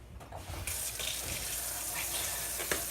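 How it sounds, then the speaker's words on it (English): Tap water running into a kitchen sink while washing dishes, a steady splashing gush that starts abruptly and continues with small clinks and splashes, close and alone. "Wash dishes before I do anything else."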